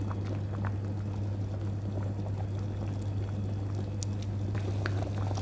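Vegetable minestrone soup with macaroni simmering in a pot, a soft continuous bubbling and gentle patter over a steady low hum, faint and unbroken.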